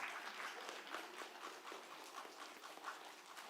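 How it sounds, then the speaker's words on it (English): Children clapping together at a seminar, a quiet, distant patter of many hands that holds steady throughout. "And your children will applaud for you."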